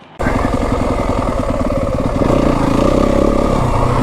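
A Yamaha WR 250F dirt bike engine runs close by on Flagstaff single track, beginning with a sharp start and a rapid, steady four-stroke putter, then rising in pitch and loudness as it revs harder.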